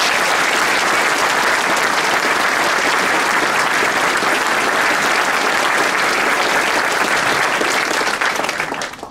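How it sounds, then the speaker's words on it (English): An audience at an interfaith solidarity vigil at the Islamic Foundation in Villa Park, held for the victims of the New Zealand mosque attacks, gives loud, sustained applause that fills the room and fades only at the end. "I'd like to give them a round of applause."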